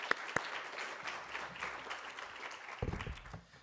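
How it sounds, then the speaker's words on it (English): A round of applause from the audience at a Northern Virginia forum on housing and infrastructure, honoring Todd and Julie; dense clapping holds steady for a few seconds, with a couple of sharp claps early and a voice starting near the end. "Just one more round of applause for Todd and Julie."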